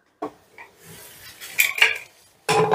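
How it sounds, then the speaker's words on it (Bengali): Metal clanks and scrapes of a pressure cooker lid being fitted and locked in a home kitchen after cooking chana dal with paneer, a few separate clinks followed by a louder clatter, close and alone. "এবারে ঢাকনাটা আটকে আমি প্রেসার কুকারে 4টে সিটি দিয়ে নেব।"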